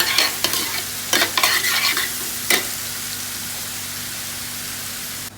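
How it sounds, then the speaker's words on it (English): Butter and meat sizzle in an overheated pan for a whole lamb dish, a loud steady frying hiss broken by a few scraping stirs early on, then settling into continuous sizzling. "You need to little bit overheat to the pan, so the butter and meat needs to be little bit burnt"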